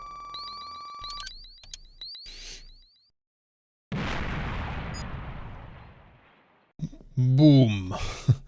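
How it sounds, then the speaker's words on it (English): In the Streets of Rage Remake beat-'em-up, a loud game explosion bursts out of a pause and trails off in a long rumbling decay, with chiptune-style effects before and after it. "What a powerful explosion."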